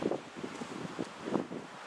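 Gusty wind rising ahead of a storm near Lubbock, Texas, in tornado country, buffeting the microphone in uneven low rumbling surges for a couple of seconds, with no voices.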